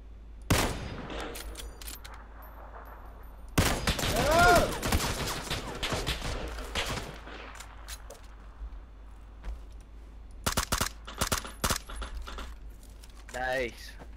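Gunfire in an online shooter video game, sharp bursts of shots in separate clusters with quiet gaps between them, and players talking over the action.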